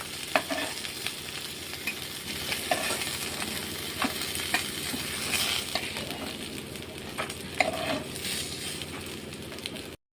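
Pieces of rohu fish sizzle steadily in hot oil in a pan, a close, continuous crackling fry with scattered sharper pops and occasional utensil scrapes throughout, no speech.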